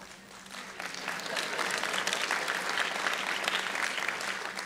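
An audience breaks into applause that swells quickly and holds steady, many hands clapping at once.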